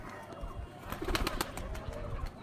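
Pigeon of a named breed line, soft low cooing and faint rustling, close but quiet, no voices.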